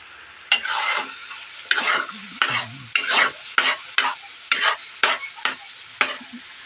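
Pork and papaya dinuguan stir-fried in a pan make a run of about ten sharp scraping stirs over a soft, constant sizzle, close and without talk.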